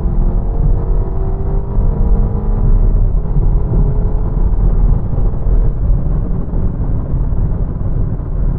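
A BMW 225i Active Tourer with a 2.0-litre engine accelerates in manual mode with automatic gear changes, a steady loud engine drone and low rumble filling the cabin throughout.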